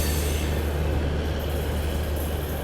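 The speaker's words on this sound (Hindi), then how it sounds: "अपनी सद्भावना एक्सप्रेस निकल चुकी है आनंद विहार रेलवे स्टेशन से" The Sadbhawna Express rolls out of Anand Vihar railway station with a loud, steady rumble of wheels and carriages close by, a continuous low roar throughout.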